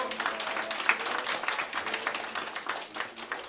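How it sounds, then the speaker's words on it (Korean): An audience at a civic ceremony in Incheon applauds as the mayor presents a citizen safety insurance certificate to a citizen representative, a fairly faint, steady patter of clapping from a gathered crowd, somewhat distant. "여러분 큰 박수 부탁드립니다"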